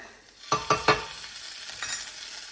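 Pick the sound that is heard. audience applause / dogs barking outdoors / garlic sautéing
garlic sautéing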